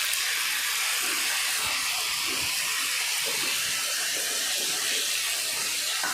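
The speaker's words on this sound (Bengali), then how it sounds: "মশলার যে পাত্রটি আমি বেটেছিলাম সেটি ধুয়ে নিয়েছি, তার জলটি আমি এতে দিয়ে দিলাম" Water from rinsing a spice grinding bowl of mustard and poppy seed paste is poured into a cooking pan, a steady close hiss and splash that continues without pause.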